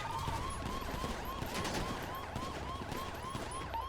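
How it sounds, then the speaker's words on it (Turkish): Rapid automatic weapon fire crackles through a police chase video game, bursts of shots layered with a wailing siren that sweeps up and down behind them, all fairly quiet and without talk. "İçindeki şahıs otomatik bir silahla shotfire uyguluyor."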